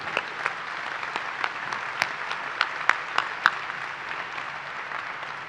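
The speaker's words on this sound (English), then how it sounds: "And now let's give them all a big round of applause for what they've done for you." Audience applause at a 2019 high school graduation ceremony, a steady crowd-wide clapping with a few sharper individual claps standing out, sustained for several seconds without speech.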